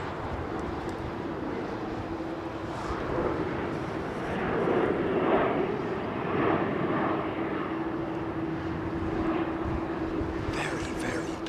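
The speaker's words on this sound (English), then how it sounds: "Is that Dreamliner? Making all that racket." Boeing 787 Dreamliner engines at London Heathrow, a broad, steady jet roar at moderate distance that swells slightly midway, with a low droning hum underneath and faint voices in the background.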